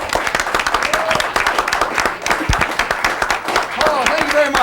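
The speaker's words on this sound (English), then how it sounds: "Ladies and gentlemen, a round of applause for Mr." A studio audience at a live talk show claps and cheers for an arriving guest in a dense, steady burst of applause, while a voice speaks over the clapping.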